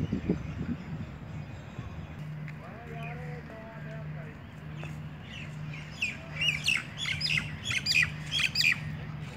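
Birds in the Rose Garden in Chandigarh chirp and squawk, with sharp repeated calls growing busier toward the end, over outdoor background noise and a steady low hum.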